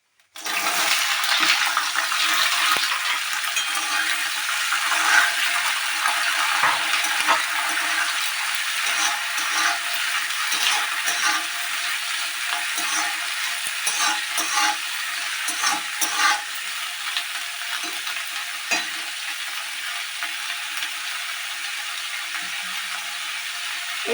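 Flat beans (shim) dropped into hot oil tempered with five-spice, sizzling and frying loudly and continuously with crackling and stirring noises close by.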